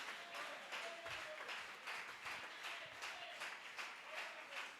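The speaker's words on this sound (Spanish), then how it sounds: "Dale ese aplauso al Señor." Congregation applauding during a church service, a steady wash of clapping with faint voices calling out beneath it.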